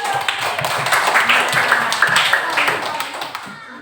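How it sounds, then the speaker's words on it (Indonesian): A group claps hands in a quick, steady rhythm at a church-style Christian gathering, fairly close, with voices mixed in. "Tepuk tangan dulu."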